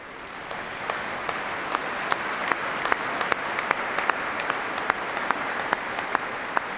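Applause from a Catholic congregation at a Sunday evening Mass, a steady dense wash of many hands clapping with a few sharper individual claps standing out, moderately loud and sustained throughout.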